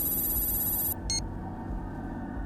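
Telephone ringing after a call is placed, a steady electronic ring tone near the start that cuts off, followed by a brief second burst over low background hum.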